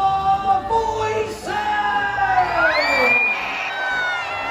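Medieval Times arena audience cheering the knights: a big crowd of children and adults whooping and yelling in rising, sustained cheers that swell and hold throughout.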